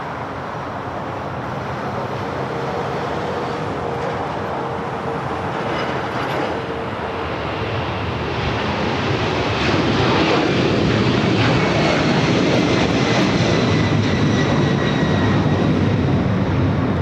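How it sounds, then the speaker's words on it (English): A Northern Air Cargo Boeing 767 takes off at LAX, its broad engine roar building steadily and growing louder over the second half, heard from a distance with no talk. "once this Northern Air Cargo 767 takes off here, we will roll the video"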